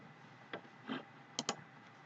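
A delete key is pressed on a computer keyboard, making a few faint, crisp clicks spaced irregularly in a quiet room.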